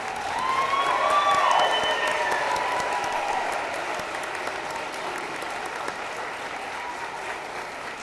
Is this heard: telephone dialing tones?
no